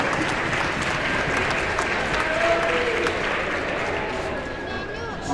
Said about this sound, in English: Big round of applause for Mania.